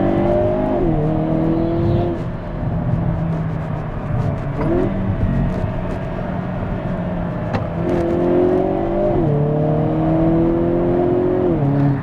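Hyundai Kona N engine revving and accelerating through gear changes, its exhaust tone rising and dropping at each shift, with occasional sharp pops and crackles, heard loud and close from inside the car.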